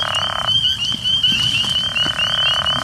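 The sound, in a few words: frog call with spring peepers in background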